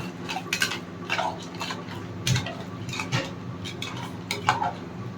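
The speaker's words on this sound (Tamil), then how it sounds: "இப்போ கிண்டிக்கலாம் ஒரு வாட்டி." A spoon scrapes and clinks against a cooking pot as a dish is stirred, producing irregular soft knocks and scraping strokes over a low background hum, close and fairly quiet.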